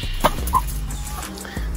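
Chickens cluck in a few short, close calls on a Kenyan village farm, with quiet outdoor background around them.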